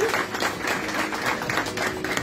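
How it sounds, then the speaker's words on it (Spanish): Steady applause fills a hall at a graduation ceremony of Instituto Oficial San Buenaventura as a graduate receives her diploma and medal, with many hands clapping together without pause. "Fuerte el aplauso"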